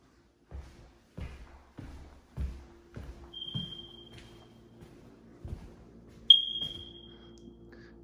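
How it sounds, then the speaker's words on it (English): Smoke detectors in a modular farmhouse give two or three brief high chirps, one sharp and loud, over a series of soft thuds and clunks from people moving around in the room. "these smoke detectors are getting on my nerves, but I don't have a ladder with me to fix it."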